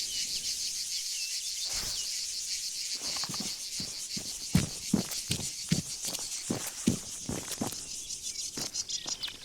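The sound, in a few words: loud bugs, insects chirping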